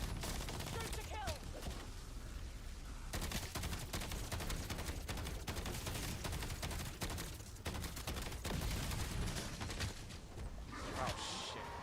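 Call of Duty Black Ops 7 gameplay fills with sustained automatic gunfire, rapid bursts and rattling volleys that run almost without pause under other game sounds, with a few louder shots standing out.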